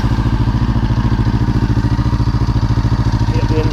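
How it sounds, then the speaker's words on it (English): A 2016 Honda CB500X parallel-twin motorcycle idles just after start-up, a loud, close, steady rapid thumping pulse with no voices over it. "Just give it a little start up just to warm up the engine a little bit."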